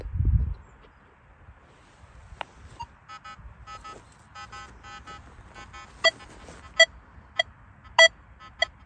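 Tones from a metal detector during a 3D separation test: a soft low thump, then a string of short, broken beeps and sharper pulses that stutter on and off irregularly against quiet background.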